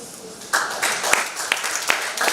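Applause from a conference audience at an artificial intelligence technology event, a steady wash of clapping with sharper individual claps standing out and a murmur of voices underneath.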